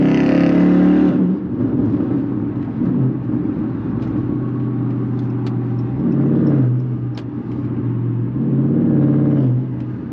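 A Chrysler 300C engine drones steadily from inside the car while driving, with low rumble and swells as it accelerates; a brief loud burst at the very start.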